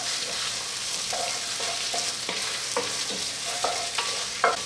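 Browned beef and tomato paste in a pot for beef stock sizzle steadily while a spoon stirs and scrapes, making several distinct scraping strokes over the continuous frying hiss.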